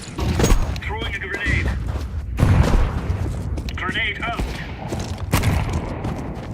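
A grenade blast in Counter-Strike 2 competitive play, with heavy thumping explosions and gunfire bursts, loud and close, mixed with in-game voice callouts.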